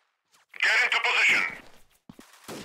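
Gunfire in the shooter game Freeman: Guerrilla Warfare, a short loud burst of shots with a few fainter cracks after it.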